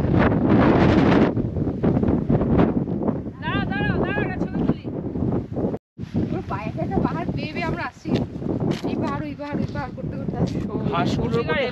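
Strong wind buffets the microphone in roaring gusts on a sunny mountain trek from Tonglu to Tumling, with people talking intermittently beneath the steady, loud rush.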